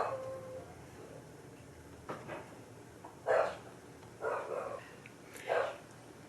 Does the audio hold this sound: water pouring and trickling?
no